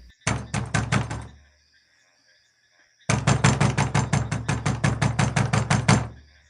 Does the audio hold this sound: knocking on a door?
yes